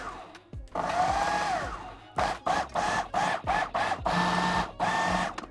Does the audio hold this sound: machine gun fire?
no